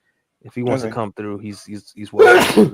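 A single loud, close sneeze bursts out after someone talks on a podcast, sharp and breathy, ending the stretch of speech.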